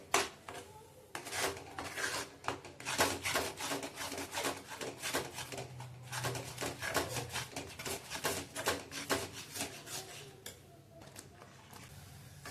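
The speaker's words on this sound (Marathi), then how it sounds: "आता दूध सर्व आटेपर्यंत आपण चांगलं परतून घ्यायचंय।" A grated coconut and milk mixture is stirred and sautéed in a pan as the milk cooks off, giving repeated scraping and rubbing strokes in an uneven rhythm, close and fairly soft.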